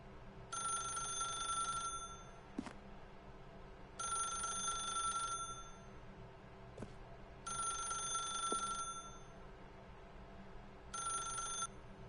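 Old-style telephone bell ringing in The Stanley Parable video game, four evenly spaced rings of about a second and a half each separated by short pauses, clear and moderately quiet with no voices.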